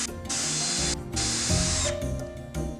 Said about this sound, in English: he's putting hundreds of screws into the wall.